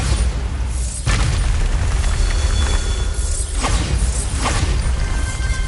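A Bombarda spell explodes in a Harry Potter video game, a loud booming blast with crashing debris and whooshing effects that fill the space, followed by further bursts and a sustained rumble.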